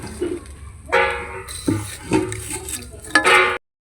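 Fried puffed popcorn is scooped out of a pan with a utensil, giving several separate bursts of metallic scraping, clinking and rattling grains, each scoop close and sharp, with short pauses between.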